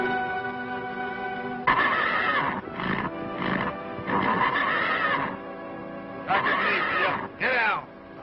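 A horse in a western film neighs in several loud, close whinnies with short pauses between them, each call rising and then trailing off.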